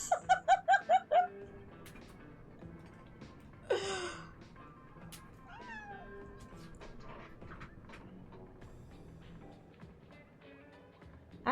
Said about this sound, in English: Bird sounds.